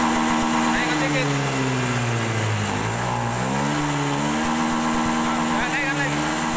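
A fuel-injected Honda motorcycle engine runs close and loud with a throttle fault, revving up and dropping back repeatedly in uneven swells while someone talks over it.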